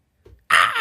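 A person's voice imitates a bird call, giving a faint low breath followed by a loud, harsh caw-like squawk that holds to the end, close to the microphone.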